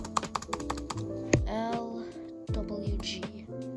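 Fingers tap rapid, irregular keystrokes on the keyboard of a 2008 Toshiba laptop, close and crisp, with a brief pause mid-way and bright electronic tones sounding over the clicks.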